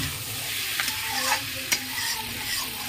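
Fish cooking down with spices in a pan, a steady soft sizzle broken by a few clinks of stirring, close and alone with no talk.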